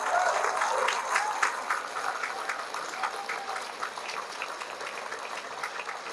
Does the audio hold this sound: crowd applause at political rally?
yes